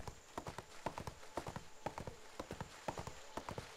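Horse hooves clip-clop at a steady trotting rhythm in the fantasy game ArcheAge, fairly close and clear with no talking over them.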